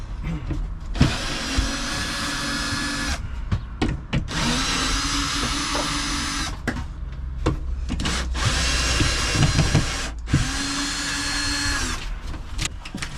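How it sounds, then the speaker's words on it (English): A hoover runs in bursts while a camper van's stripped kitchen and bedroom are cleared out, its steady whirring roar stopping and restarting several times with brief pauses and clunks between runs. "It's a bloody good hoover."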